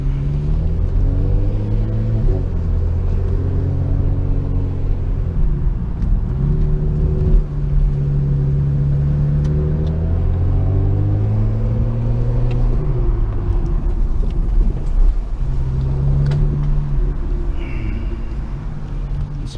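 Car with a dual-clutch transmission driving in traffic, engine rumble rising and dropping through repeated quick gear shifts, steady road and tire noise underneath, close and loud for the whole stretch with no talking.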